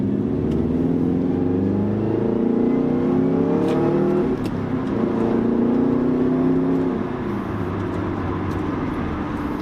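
A Subaru WRX STi engine revs and pulls hard under acceleration, a loud continuous drone rising and falling through gear changes, with steady road and wind noise throughout.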